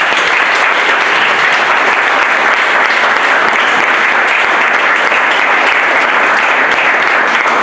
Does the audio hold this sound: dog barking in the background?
no